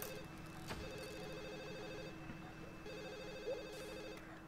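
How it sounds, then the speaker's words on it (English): A phone rings in the video game The Sims Bustin' Out, sounding as two faint bursts of electronic warbling set low in a busy game soundscape. "Is somebody gonna get the phone?"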